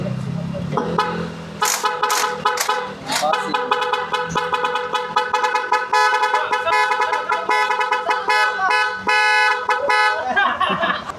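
A horn being tested on a Yamaha Lexi 155 scooter, loud repeated honks in bursts of varying length, close by, with the pitch holding steady across the clip.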